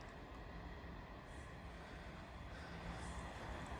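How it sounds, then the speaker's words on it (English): A diverted Avanti Pendolino electric train on the West Coast Main Line, running from London Euston to Liverpool Lime Street, rolls slowly past at a distance as a steady, faint rumble and hiss that holds throughout. "we have a diverted Avanti Pendolino running from London"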